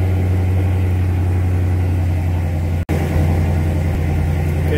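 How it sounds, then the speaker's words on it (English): A 2018 Dodge Challenger Scat Pack with the 392 V8 and a mid-muffler delete idles with a deep, steady, loud burble, heard close and from inside the car, with one very brief dropout partway through. "Sorry my car's a little loud. I got the mid muffler delete, and it's pretty loud"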